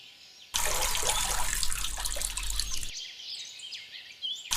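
A shower runs in a steady, close, hissing stream of water for a couple of seconds, then shuts off abruptly, leaving a quiet room with faint high chirps.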